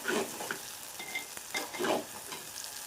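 Ginger garlic paste frying in a pan with oil, a close, even sizzle interrupted by several soft stirring scrapes spread across the moment.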